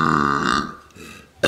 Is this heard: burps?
yes